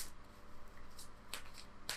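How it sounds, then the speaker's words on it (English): Tarot cards get a quick shuffle, giving soft papery riffles and a couple of sharper crisp flutters, faint and close with nobody talking. "Let's give it one more quick shuffle."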